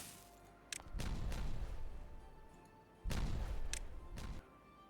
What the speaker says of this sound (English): Detonate.